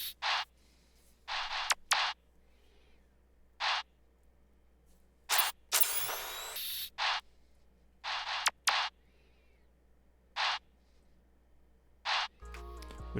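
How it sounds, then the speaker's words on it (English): Sparse percussion effects for an emo plugg beat, with rim hits, open hi-hats and assorted drum-kit sound effects, sounding as short scattered bright ticks and hisses over a faint low hum, with no other instruments or voices. "I like to use things like rims, open hats, and then just random sound effects that you can find in any different drum kit"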